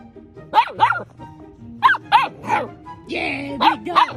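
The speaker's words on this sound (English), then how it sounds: "Yeah, big dog." A big dog gives several loud, close barks and yips in short bursts, with a person talking between them.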